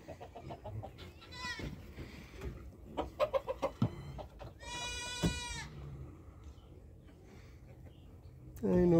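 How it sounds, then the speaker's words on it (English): Hens cluck and squawk in bursts inside a barn full of chickens, with a goat bleating and a few distant voices mixed in. "Got a barn full of chickens over here"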